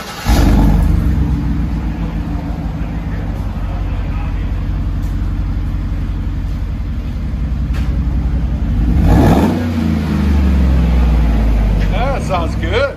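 A GMC Sierra pickup with a 5.3L V8 and a performance muffler, idling with a deep, steady rumble, then revving hard twice near the end, loud and close.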